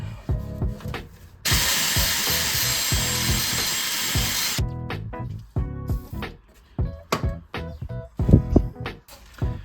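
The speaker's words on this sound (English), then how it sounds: "I'm just gonna go with the cleaning of the threads and WD-40 and then impact gun." Trailing arm bolts on a BMW E46 328Ci being worked on: a long hissing blast, then short bursts of rattling impact-gun hammering mixed with metallic clanks and clicks, loud and close.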